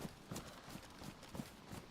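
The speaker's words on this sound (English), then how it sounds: "I always hear footsteps." Footsteps in the video game DayZ, a steady run of soft, evenly spaced thuds about every third of a second, moderately close and fairly quiet, with no talking over them.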